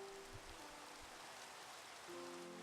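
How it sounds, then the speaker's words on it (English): Rain falls outside in a faint, even hiss of steady drops heard from indoors, with a low hum in the background and no talking. "It's raining again, damn it."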